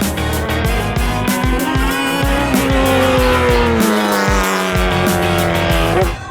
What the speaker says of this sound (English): Never driven something like this with the Hayabusa engine.